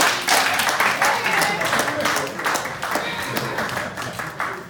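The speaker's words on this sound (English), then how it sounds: "Let's give Brother Mandaka a applause for all that hard work there." An audience claps and applauds after a mental health and suicide awareness performance, in a burst of irregular claps that fades slightly. People speak over it.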